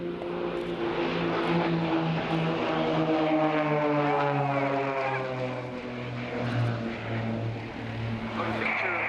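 Propeller aerobatic planes of the Blades display team flying at an air show, a loud continuous engine drone whose pitch slowly sweeps as the aircraft pass, with a commentator talking over it.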